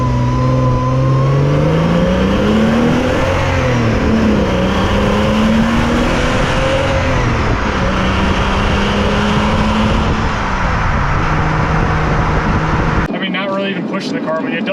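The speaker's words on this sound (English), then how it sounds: "that Flat-6. Got a neat tone out of it." A 1999 Porsche Boxster's 2.5-liter flat-six engine climbs in pitch as it accelerates through gears, a loud rising drone heard from inside the cabin, ending abruptly.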